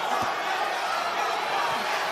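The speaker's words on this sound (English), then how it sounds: "Crowd enjoying this fight." Crowd at a boxing match between Kholmatov and Ford, a dense, steady roar of cheering spectators filling the arena, with a few dull thuds underneath.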